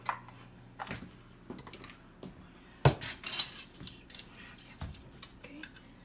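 A plastic cap snaps back onto a baking soda container in a home kitchen, one sharp click standing out among light clinks and rattles of utensils and containers nearby.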